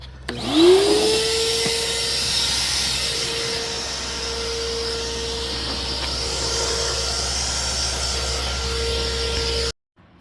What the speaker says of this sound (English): use my shop vac as a blower to clean off all that excess dust